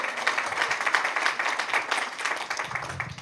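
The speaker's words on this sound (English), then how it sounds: "Give yourselves a round of applause for being here." A short burst of lively audience clapping at a motivational seminar, fairly close and uneven, tapering slightly toward the end.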